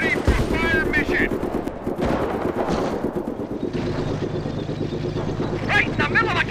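Dense rapid machine-gun bursts and rifle fire crackle through a Company of Heroes World War II battle, with explosions and engine rumble beneath, while soldiers' voices shout over the firefight.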